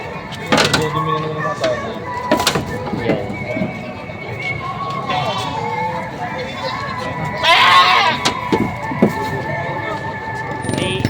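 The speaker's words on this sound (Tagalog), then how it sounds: "Mga pangkatay na kambing. Matatabang nakukuha nyo ah." Goats for slaughter bleat several times amid a busy goat market in Padre Garcia, Batangas, with people talking nearby and occasional clatter and movement in the background.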